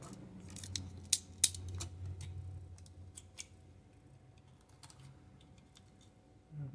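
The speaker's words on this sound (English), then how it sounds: "Let's cut that hole." Shielding material being cut to make a hole while wiring a six-string bass guitar, heard as a few sharp snips and clicks, quiet and close, with no talking.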